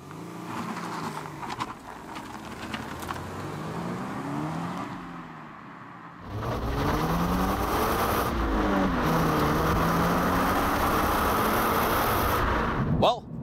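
Toyota GR86 engine accelerating on the road, a steady drone with rising and falling harmonic sweeps as it climbs through gears, louder and fuller in the second half, with a brief quiet lull partway through.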